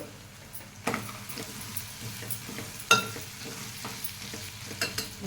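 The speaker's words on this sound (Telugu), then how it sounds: "ఇది బంగాళదుంపలు ఇందులో వేసుకోవాలి ఫ్రై చేసిన బంగాళదుంపలు" Fried potatoes go into a frying pan and are stirred, giving a soft sizzle under scattered scraping clinks of a spoon, including one sharper knock, with no talk.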